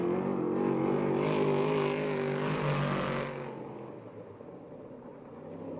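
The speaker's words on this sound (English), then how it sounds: "Did you hear that car go by, Joe?" A USAC/CRA sprint car roars past on the Perris, California race track, its loud engine note swelling then dropping away as it passes, with the roar fading to a lower rumble after about three seconds.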